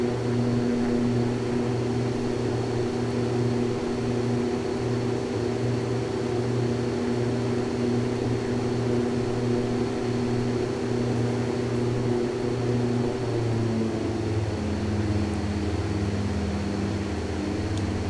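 A small propeller airplane powers up for takeoff on runway 25, its engine a steady, droning buzz that shifts in pitch toward the end.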